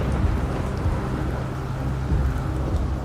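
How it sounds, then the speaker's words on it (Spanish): A raging storm with heavy rain and rumbling thunder, wind roaring steadily throughout, loud and continuous with deep low rolls swelling near the middle and end. "el viento y la lluvia penetraron aullando de forma ensordecedora"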